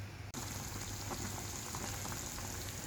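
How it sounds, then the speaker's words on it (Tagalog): A pot of salmon sinigang soup with petchay bubbles at a steady simmer, a continuous close crackling, gurgling wash after a brief cut near the start, with no talk. "hayaan po muna natin siyang kukulo. Hanggang sa maluto yung fish natin"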